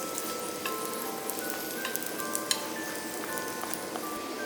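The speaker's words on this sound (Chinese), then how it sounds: "煎到两边这样脆脆的就可以了" Purple sweet potato cakes pan-frying over low heat in a flat pan until crisp on both sides, a soft steady sizzle with faint ticks and crackles, close and quiet.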